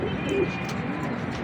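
Pet Ferozpuri or golden pigeons coo softly and steadily, a low murmuring drone under faint background noise with no clear talk.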